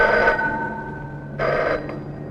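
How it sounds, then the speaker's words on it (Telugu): A telephone bell rings in two bursts, the first fading into a held tone, then a second sharp ring after a short gap, fairly close and clear. "ఎంకో ఫోన్ సార్"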